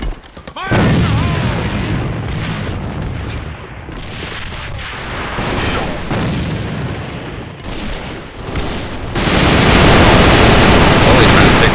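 Grenade blast and gunfire in the AVA first-person shooter during an ESL October Cup finals match, with loud, dense booms and rapid shots throughout and a heavy explosion near the end, while a commentator talks over the action.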